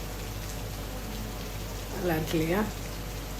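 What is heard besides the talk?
heavy rain falling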